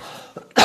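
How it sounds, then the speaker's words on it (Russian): One sharp, loud cough bursts out near the end, after a short throat-clearing catch, recorded close to the microphone. "чтобы вам по ушам не бил мой кашель"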